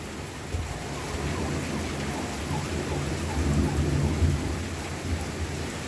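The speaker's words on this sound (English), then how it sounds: "And the thunder and the lightning, it's just fun." A Florida thunderstorm with steady heavy rain and low rolling thunder swelling through the middle, close and continuous, with no clear talk over it.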